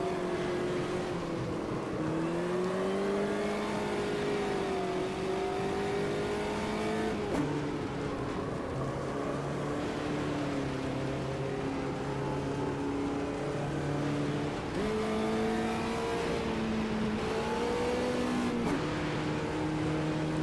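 A VW Beetle race car engine in the Automobilista 2 video game on the Curvelo track drones continuously and loudly for twenty seconds, its pitch rising through the gears and dropping at each shift, with no talking.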